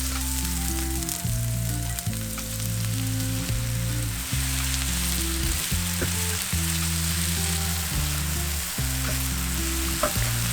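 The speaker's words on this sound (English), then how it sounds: "oil's on, add the onion." Onion fries in hot oil in a pan for kimchi fried rice with tuna, giving a steady, dense sizzle with occasional faint stirring ticks, heard under continuous background music.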